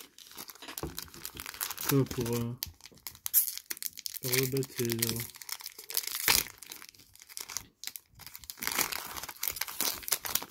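A Pokémon card booster pack from the Rebel Clash set is torn open, and the wrapper crinkles and rustles in close, repeated bursts while a person speaks French over the sound.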